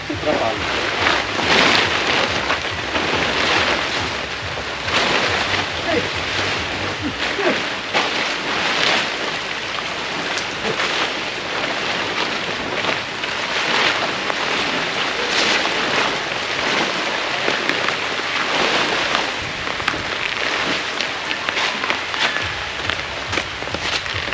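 Steady heavy rain roars on, a broad hiss with gusty wind, while voices talk intermittently over it.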